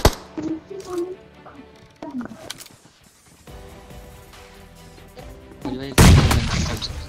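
A grenade goes off right beside the player in PUBG Mobile, a single loud, close boom with a heavy low thud near the end, following quieter game noises and a voice talking.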